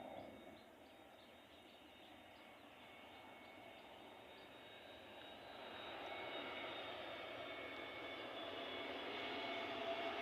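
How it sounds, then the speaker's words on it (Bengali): A passenger airliner passes overhead near a national border, its broadband engine roar steady and moderately distant, swelling a little louder toward the end with no voices over it. "বিমান, যাত্রীবাহী বিমান, এখনো আমাদের সীমান্তের উপর দিয়ে যাচ্ছে"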